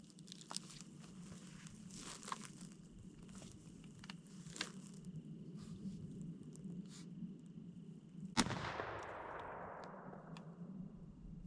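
A Stoeger M3020 shotgun fires a single light target load, a sharp, loud blast whose noisy tail fades over a couple of seconds, after several seconds of faint handling ticks and low background rumble.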